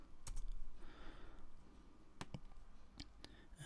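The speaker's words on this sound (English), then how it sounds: "just typing in the coordinates" Soft, sparse key taps on a computer keyboard, a few scattered clicks over a steady hiss of room noise, fairly faint and close.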